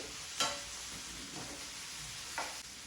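Curry leaves drop into hot oil in a frying pan, giving a soft, steady sizzle under a few brief clinks of stirring at a home stove, with no voices.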